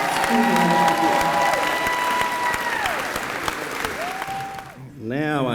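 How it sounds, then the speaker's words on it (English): An audience at a university Founders' Convocation applauds a student award, loud sustained clapping with a tonal hum running beneath, tapering near the end as a voice begins. "please give a round of applause for Alyssa Smith, our Education Abroad Student of the Year"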